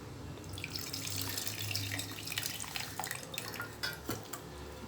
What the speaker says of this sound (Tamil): அதோடு சேர்த்து இந்த தண்ணியை நான் சேர்த்துக்கிறேன்.